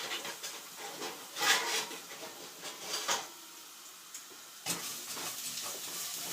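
Garlic sizzles and sautés in a pan as it is stirred around, a steady close hiss with a few louder scraping bursts of the spoon moving through it, alone without talk.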